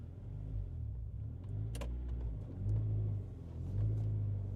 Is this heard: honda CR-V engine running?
yes